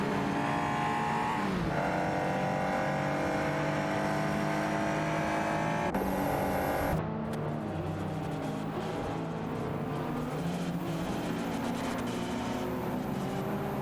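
Race cars roar around Imola in a retro racing video game, one continuous loud engine drone with shifting pitch as cars pass and rev, a brief tonal cut midway, no voices.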